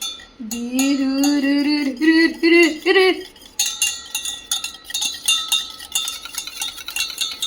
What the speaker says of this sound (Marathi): कशी ते बिटरने हलव ना, ते हलवायचं असतं हो.